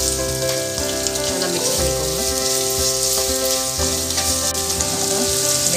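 Onions, bay leaves, cinnamon, cloves and cardamom fry in hot oil and ghee for a vermicelli chicken biryani, giving a steady, loud sizzle and crackle with occasional stirring scrapes throughout.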